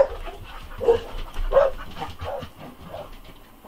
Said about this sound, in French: Excusez-moi pour mes chiens qui n'arrêtent pas